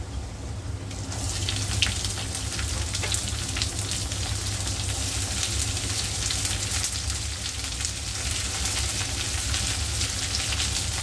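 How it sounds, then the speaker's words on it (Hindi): Chopped onion frying in a pan for kaleji masala gives a steady, fairly loud sizzle. It sets in after a quiet first second and holds evenly to the end with no talk, some watery hiss running through it. "कांदे को अच्छे तरह से फ्राई कर लेना है।"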